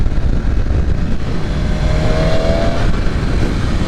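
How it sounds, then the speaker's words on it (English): A tuned 2023 BMW S1000RR sport motorcycle engine roars loud and continuous at high revs on a dyno, a dense rumbling drone with a faint rising whine partway through. "the bike has that traditional kind of sound to it that you normally see from an S1000RR"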